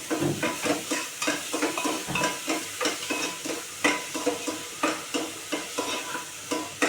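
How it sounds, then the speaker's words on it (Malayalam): Onions fry in a pan for Mumbai pav bhaji, a continuous sizzle broken by regular rhythmic scrapes of a spatula stirring them, close and steady with no voices. "സവാള ഇളക്കി കൊടുക്കാം നമുക്ക് അതിനൊപ്പം തന്നെ"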